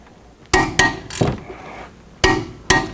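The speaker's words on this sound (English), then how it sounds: "I got my torque wrench set up to 80 foot-pound" Tightening a caliper bracket bolt on a Honda Accord with a torque wrench set to 80 foot-pounds, heard as sharp metallic clicks and knocks in two close pairs separated by a quieter pause.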